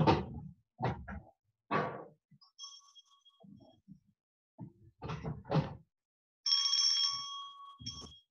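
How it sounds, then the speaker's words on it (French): A hand bell rings in short bursts, a sustained metallic ringing clearly heard twice near the end, after softer tinkles, with pauses of someone speaking between the rings. "Je sonne ma cloche."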